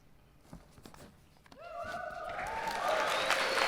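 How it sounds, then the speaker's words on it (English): Applause from a live audience during a political speech swells from scattered claps into loud sustained clapping with cheers and whoops rising over it. "Thank you for that applause break while I just turn the page."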